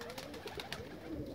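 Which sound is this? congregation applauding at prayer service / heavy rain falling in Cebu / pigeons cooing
pigeons cooing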